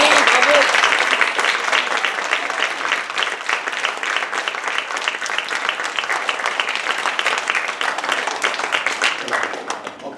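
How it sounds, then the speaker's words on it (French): Theatre audience applauding student performers, dense continuous clapping that starts loud and carries on evenly before tapering slightly at the end. "déjà on peut les applaudir"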